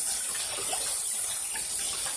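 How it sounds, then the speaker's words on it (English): Water from a tap runs steadily into a bowl while raw chicken is rinsed and rubbed by hand beneath it, a close, continuous gushing splash with no talking. "Just rub it under the water with both hands, just like that, but in the bowl under the water"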